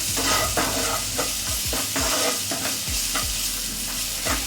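Bengali-style pomfret fish curry sizzling steadily in a pan while being stirred, with repeated scraping strokes of the spoon every half second or so, close and fairly loud, no voices.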